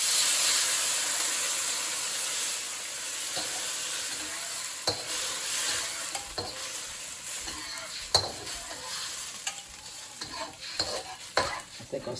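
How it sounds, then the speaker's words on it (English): General Tso's chicken sauce sizzling and hissing in a hot pan, a loud steady fry with scattered clicks and scrapes of stirring, growing choppier toward the end, no talking. "Now you put the sauce in."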